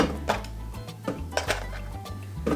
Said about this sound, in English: so I'm going to pop the courgettes in next